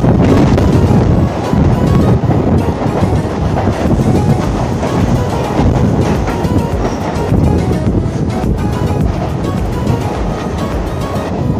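A diesel-hauled local train in Chennai runs steadily with a loud, continuous rumble and rhythmic rail clatter, and wind rushes throughout.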